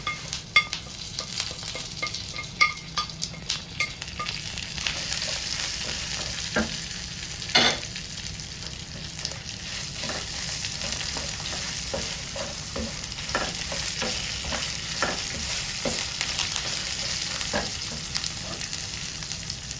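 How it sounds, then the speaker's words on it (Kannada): Masala frying in a pan for Mangalore chicken curry, a continuous crackling sizzle with scattered sharp clicks of a spoon stirring against the pan, no voices. "ಈ ಮಸಾಲೆ ಕೂಡ ನಾನು ಒಟ್ಟಿಗೆ ಫ್ರೈ ಮಾಡ್ತಾ ಇದ್ದೇನೆ"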